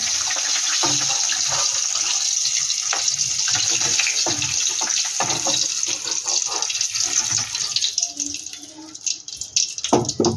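A continuous, fairly loud hiss of koi fish frying in oil in a home Bengali kitchen runs steadily, then grows more uneven near the end with a few soft knocks.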